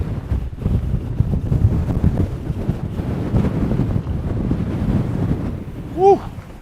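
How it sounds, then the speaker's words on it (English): Strong wind on the Greek island of Naxos buffets the microphone in a steady, loud roar with gusty surges, broken near the end by a brief rising whistle. "Oh my God, it's so windy."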